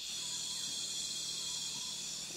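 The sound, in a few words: insects and frogs calling in the rainforest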